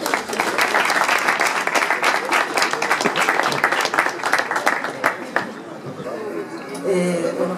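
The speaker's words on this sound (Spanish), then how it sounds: "Un aplauso, por favor" Sustained audience applause for the poet Guadalupe at a Spanish-language literary reading, dense clapping that thins near the end as a voice begins to speak.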